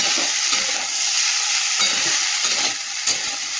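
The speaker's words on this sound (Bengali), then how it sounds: "এটা ভাজা হচ্ছে তখন।" Chili powder, dried red chilies and spices fry in a hot pan with a constant sizzle. A spoon stirs and scrapes through them in repeated strokes, heard up close with no talking.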